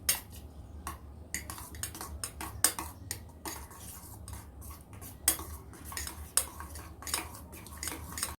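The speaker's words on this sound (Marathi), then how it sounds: "आता हे काळी मिरी आणि मीठ मिक्स कर त्याच्यात." Egg beaten with black pepper and salt in a bowl: quick, irregular clinks and taps of a utensil against the bowl repeat throughout, close and fairly quiet, with no voices.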